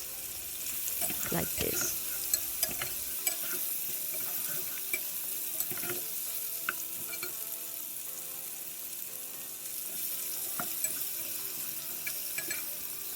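Beef chunks fry and are stirred in a pan for Texas chili, a soft continuous sizzle with intermittent scraping clicks of a utensil and a brief spoken remark.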